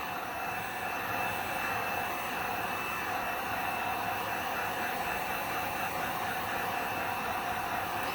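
A hair dryer blows steadily and loudly on fresh paint being dried on a piece for a chippy, distressed finish, a continuous even whoosh with no pauses and no talking.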